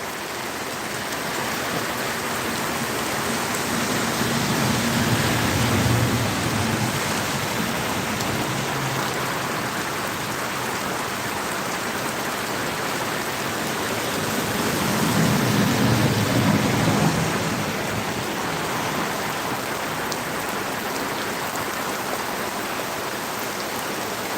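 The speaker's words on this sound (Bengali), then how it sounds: "আজকে রাতের বৃষ্টি তুলে ধরলাম" Heavy rain pours steadily at night over the Phulpur area, a dense continuous roar that swells slightly around the middle and again later, with no voices.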